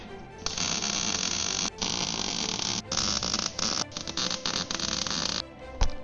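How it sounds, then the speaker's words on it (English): Arc welding a bead onto a tractor seat: a loud, close crackling buzz that runs in bursts, with several brief pauses where the arc breaks before it strikes again, and no talking. "I'll string some weld right here just because it's fun."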